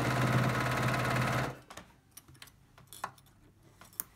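Sewing machine stitching binding onto a t-shirt quilt, a close steady whir for about a second and a half that stops, followed by faint clicks and handling of clips and fabric.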